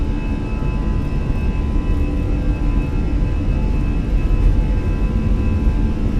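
Airliner engines in Microsoft Flight Simulator, a Fenix aircraft at takeoff power, give a loud, steady, unbroken roar with a faint whine running through it, heard alone throughout.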